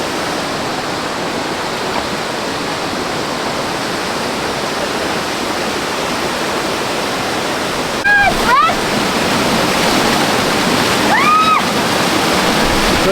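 Fresh spring water runs in a steady, broad rush close by as a bottle is filled at the source during a retreat in Sri Lanka; brief voices cut in near the end.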